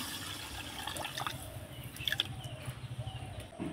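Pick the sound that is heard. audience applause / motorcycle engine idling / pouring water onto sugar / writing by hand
pouring water onto sugar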